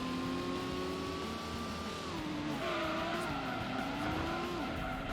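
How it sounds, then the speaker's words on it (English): A race car in Gran Turismo slides into a half spin: a steady engine drone wavers and shifts pitch as the car rotates, with a continuous loud roar and no talking. "And my car goes for a half spin."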